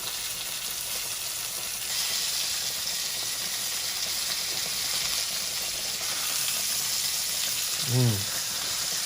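Country fried steak frying in grease in a pot gives a steady, close, broadband sizzle throughout, with a brief low clunk near the end.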